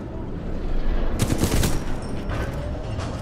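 Gunfire in the video game Titanfall 2, a burst of rapid automatic shots over a steady battle rumble, loud and close, followed by a few scattered fainter shots.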